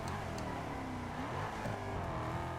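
A Ford GT supercar's engine drones and revs under acceleration in the racing game Test Drive Unlimited Solar Crown, a steady, fairly quiet roar with rising pitch sweeps and no voices.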